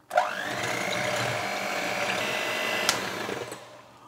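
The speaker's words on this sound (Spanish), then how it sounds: "Comenzamos a batir con varillas eléctricas a baja velocidad hasta que tenga un poquito de volumen." An electric hand whisk beats cold cream at low speed in a wide bowl, giving a steady whirring motor hum that runs for a few seconds and then stops.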